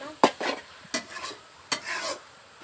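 Bottle gourd (lau) is stir-fried in a pan: three sharp scraping strokes of a spatula at a slow, uneven rhythm, each followed by a soft sizzle, close and clear with no talking.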